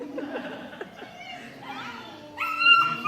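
A dog moans and whimpers during a massage, its drawn-out complaining whines running in uneven bursts under nearby talk, rising to a louder, higher whine near the end.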